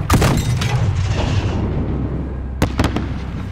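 A grenade goes off in Call of Duty Modern Warfare (2019) during a night field firefight: a loud, close boom opens, then a rumbling roar with scattered sharp blasts later on.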